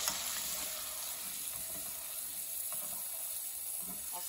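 Bacon-wrapped filet mignon sizzles steadily in a hot pan while being basted, a continuous close hiss with faint spoon clinks and no talk.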